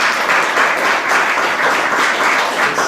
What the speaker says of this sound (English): we want to give Vaishnav Prabhu and his class a big round of applause